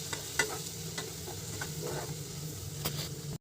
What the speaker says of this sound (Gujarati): હવે આપણે મસાલાને સરસ હલાવી લઈશું.